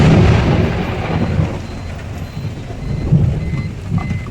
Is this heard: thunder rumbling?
yes